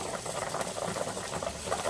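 A pot of water boils on the stove for cooking meat, giving a steady bubbling patter and soft hiss that stay even and close throughout.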